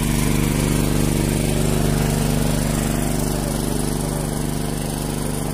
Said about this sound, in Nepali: यहाँ मेसिन चलिरहेको छ